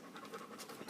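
An old golden retriever, shaved for summer, pants in quick, steady, breathy bursts close to the microphone, with no voices.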